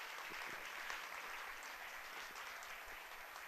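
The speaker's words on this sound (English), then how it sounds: "Another round of applause, guys." A crowd applauds steadily, a dense wash of clapping heard at some distance, with no voices over it.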